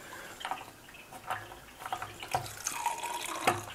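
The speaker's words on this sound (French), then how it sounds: "je vais ouvrir un robinet d'eau chaude jusqu'à ce que ça sorte" Water runs from a hot water tap opened to purge air from a water heater during a home plumbing renovation, giving a faint, uneven splashing with irregular sputtering bursts.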